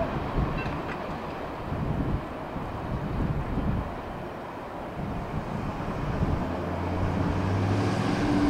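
Strong wind blowing at trackside as a CSX freight train passes, a continuous loud roar and buffeting throughout with the rail rumble underneath.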